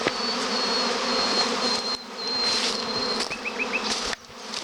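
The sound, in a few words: honeybee swarm buzzing around beehive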